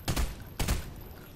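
Two sharp shotgun blasts go off in a video game, about half a second apart, each a loud burst that trails off, with no talk over them.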